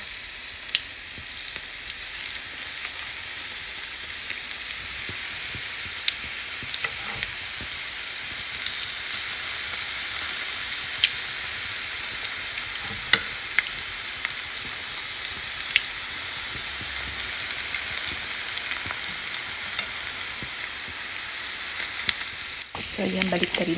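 Carrot fritter batter sizzles steadily in hot cooking oil, a continuous crackling fry with occasional faint clinks and stirring, no voices.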